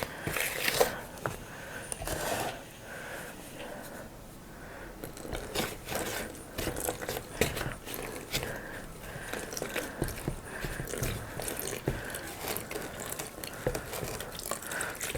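Play-dough is mixed by hand with oil and water, giving steady close squelching, scraping and sticky kneading sounds with irregular rhythm.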